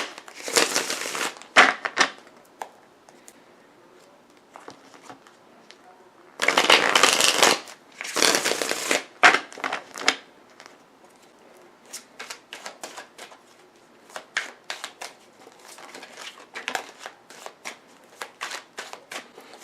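Tarot cards being shuffled up close, with crisp riffling bursts and longer flutters between lighter taps and flicks, while a voice talks.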